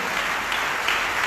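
A church congregation applauding during a Sunday worship and praise service, a brief dense burst of many hands clapping, close and steady.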